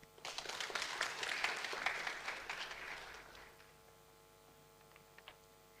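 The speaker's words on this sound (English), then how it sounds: "Let's give a round of applause." Applause from the audience at a United Nations workshop on global navigation satellite applications, a moderate burst of clapping that fades away after about three seconds into near quiet.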